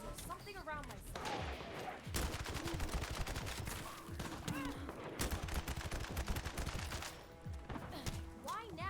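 Rapid automatic gunfire from The First Descendant video game rattles steadily throughout, loud and close, mixed with game effects and a voice speaking over it.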